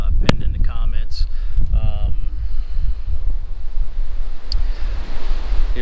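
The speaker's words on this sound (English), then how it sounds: "Here comes the wind. It's a really windy day here." On a windy day in Virginia, strong gusts batter the microphone with loud, steady roaring rumble that continues throughout, and a voice is heard briefly near the start.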